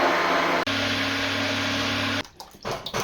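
A blender whirs loudly and steadily through a thick Indian restaurant base gravy, with a brief dip early on, then cuts off abruptly, leaving a few clatters and rustles.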